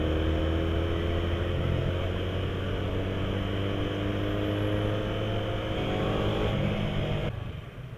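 A 2015 Yamaha R3 motorcycle pulls away from a stop with a steady, close engine drone. Its pitch climbs smoothly through the revs, with a shift-like change near the end, and no one talks.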